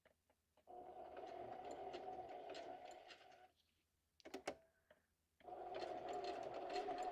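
Sewing machine running an overlock-style stitch along a junk journal edge, with two long steady runs of fast even motor whirring and needle clatter separated by a pause with a few faint clicks.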